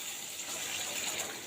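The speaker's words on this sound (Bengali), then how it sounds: "এখন আমি আবারও পরিমাণ মতো পানি দিয়ে দিব" Water pours in a steady, even rush into a cooking pan while egg curry is being prepared, close and continuous for the whole moment.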